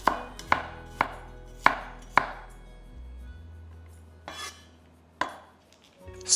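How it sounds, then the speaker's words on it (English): A knife slices garlic on a cutting board, giving several sharp, separate chops in a loose rhythm, then a pause, then a few more cuts, all close and clear with no voices. "Slice up the garlic."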